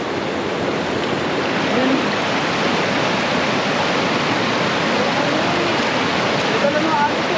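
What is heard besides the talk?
flowing river current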